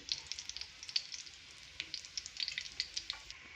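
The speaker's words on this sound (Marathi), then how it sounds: "तेल गरम झालेलं आहे यामध्ये आपण जिरा ॲड करूया" Cumin seeds crackle and sizzle in hot oil in a pan, a dense run of sharp pops and spits that stays steady and close throughout, with no voices.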